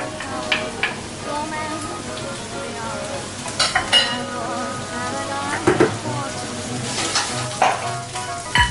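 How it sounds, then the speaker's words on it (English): Bacon fries in a pan with a continuous sizzle and scattered sharp crackles and pops, close and moderately loud. "I'm going to fry my bacon"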